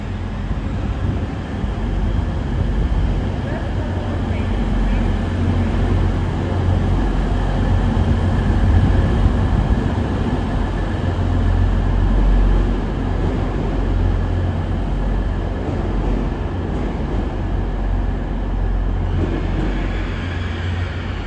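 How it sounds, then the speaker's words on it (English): A five-coach LUMO passenger train passes through Darlington station, a loud sustained low rumble and rolling roar that holds steady for over twenty seconds and eases slightly near the end. "And also passing through now is LUMO."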